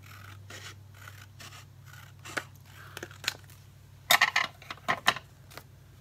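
Scissors trim paper for a flip-flop mini journal embellishment, with soft rustling and then a close cluster of sharp, crisp snips toward the end.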